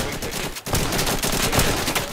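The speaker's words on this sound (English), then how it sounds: "I hear gunfire." Rapid bursts of automatic gunfire in the Insurgency video game, loud cracking volleys with a brief gap before the shooting resumes.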